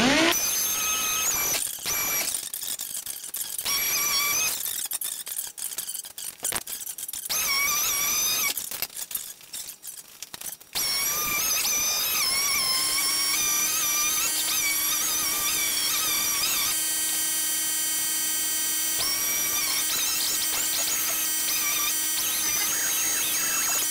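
Rust is sanded off a Western pro snowplow wing with 80-grit abrasive on a power tool, giving a high whining grind broken by stops and restarts, then a long steady whine with a squealing tone.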